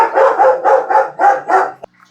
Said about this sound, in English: The dog stopped barking, it seems